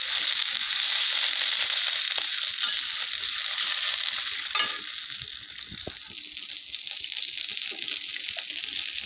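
Green chilies frying with onions and spices and a splash of water in a pan, a steady loud sizzle with faint scraping, holding through the whole stretch.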